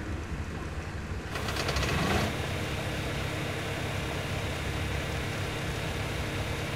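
A fuel-powered grinder machine in the ARK survival game runs as a steady broadband mechanical hum, with a brief rising whir shortly after it starts, then holding constant and moderately loud with no talking.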